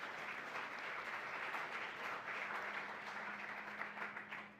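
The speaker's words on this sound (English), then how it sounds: "Give yourselves a round of applause." A congregation gives sustained, even applause in a hall, with many hands clapping at a moderate distance and fading slightly at the end.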